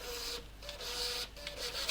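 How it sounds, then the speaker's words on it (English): A POS receipt printer runs its test page, giving steady mechanical whirring and feed chatter in short repeated bursts, close and continuous throughout with no talking. "Now I hope you can hear my printer test running."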